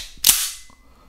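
Tisas Carry 9DS BB replica pistol, a 2011-style double-stack airgun, gives one sharp, loud mechanical snap as it is cocked with a dummy test round loaded, then a faint short click trails off into quiet.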